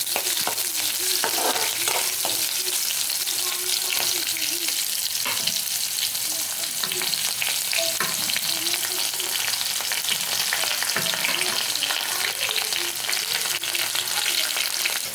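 Chopped onions sizzle steadily in hot oil with green chillies, coriander seeds, cumin and mustard seeds, scraped and stirred by hand in a pan while making cucumber chutney; loud, close and continuous with no talk.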